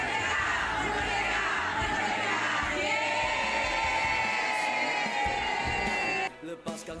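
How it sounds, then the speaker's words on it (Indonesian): A church congregation applauds during a Sunday worship service, a dense steady wash of clapping from many hands that cuts off abruptly near the end. "Sekali lagi beri tepuk tangan untuk komunitas Happy Heart"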